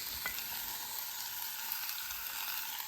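Steaks topped with garlic butter sizzle and fry steadily on a deluxe electric griddle, a continuous bright crackle at even loudness with no talking.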